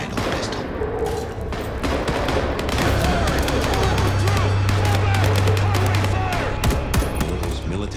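Rapid gunfire in the video game Vampire: The Masquerade – Bloodlines 2, sustained bursts of automatic shots layered with low rumbling impacts, loud and continuous, with game voices speaking underneath.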